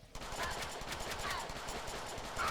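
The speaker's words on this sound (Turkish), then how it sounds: "Artık taramalıya geçtim." Rapid bursts of machine gun fire in a Deadpool video game rattle continuously, dense and close, with a faint voice under the shooting.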